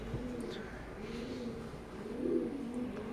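Teddy pigeons of an imported Oman bloodline coo softly and steadily up close, a low rolling murmur with a swell in volume near the end, no voices.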